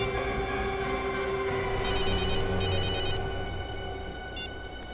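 Electronic telephone ring in two short trilling bursts, then a brief third chirp, over a steady background hum.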